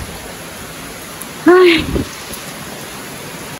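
Steady rain hisses evenly in rainy rural countryside by rice fields, and a person gives one short exclamation partway through.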